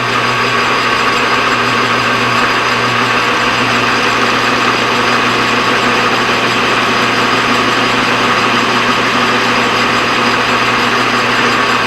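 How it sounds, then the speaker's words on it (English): A metal lathe runs steadily while cutting a crooked bushing for an alternator bracket, giving a continuous loud machine whine and hum with no break. "Go ahead and touch it with the lathe and just come by."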